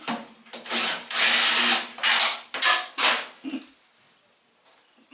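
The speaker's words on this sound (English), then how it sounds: "That is not how you use a drill." A power drill unscrews parts from a cooker, buzzing in several loud bursts of varying length with short pauses and a faint metallic rattle between them.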